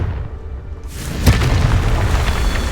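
A Confringo spell explosion, heard as a deep booming blast that swells in after a rumbling lead-in and then lingers as a loud, rolling roar.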